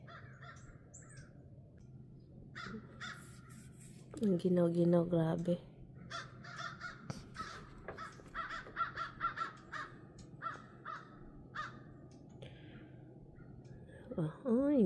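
Loud crows cawing in a repeated burst of harsh calls, with more scattered caws following while a person talks nearby.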